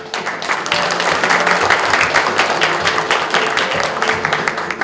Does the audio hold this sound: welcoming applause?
yes